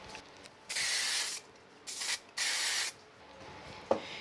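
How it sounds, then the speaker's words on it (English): Spray adhesive hissing from a can onto the back of a card, three loud bursts of about half a second each, followed by a faint tap, in a quiet crafting room. "just give it a little bit of spray glue on the back"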